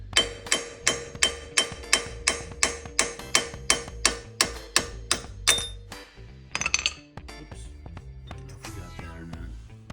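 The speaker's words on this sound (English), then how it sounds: "you just barely tap it, knock them all out one by one" An ordinary hammer lightly taps wheel studs out of an ATV hub, a Raptor 700R, in a steady run of sharp metallic clinks about every half second. The strikes then turn irregular and fainter as the work continues.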